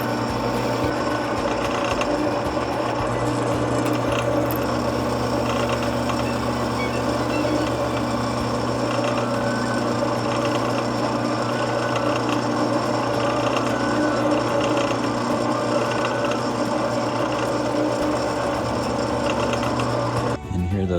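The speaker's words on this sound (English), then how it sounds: "I'm just gonna drill straight through the other two blocks" A power drill bores through wood blocks in a home garage knife-making workshop, a continuous steady mechanical whir running unbroken for about twenty seconds before cutting off at the end.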